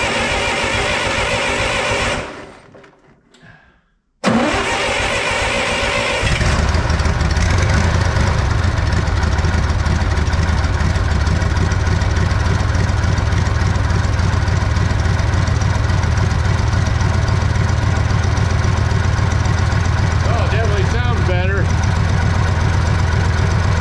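A Bobcat 600 skid steer with a suspected blown exhaust or head gasket cranks, falls briefly quiet, then fires and settles into a loud, steady, rumbling idle close by. A voice is heard over the engine.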